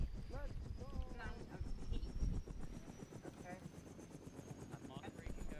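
A helicopter in the military video game Arma 3 gives a steady, rhythmic rotor chop and engine whine throughout, with several people talking over it.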